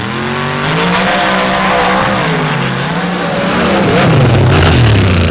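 A drag racing car with a big block Chevy engine roaring down the track at an outlaw finals championship round, a loud sustained close engine howl whose pitch wavers and climbs, with tire squeal and no voices.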